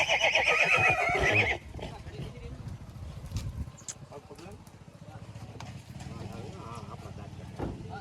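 A mare whinnies loudly for about a second and a half, followed by quieter outdoor noise at a farmhouse, light hoof sounds and background voices.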